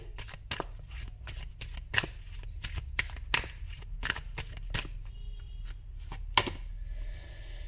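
Tarot cards shuffled by hand close up, a steady series of quick papery riffles and taps over a low hum, with no talking.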